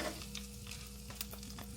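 Curry leaves crackling and sizzling as they fry in hot oil in a pan, with a steady close hiss and small popping bursts.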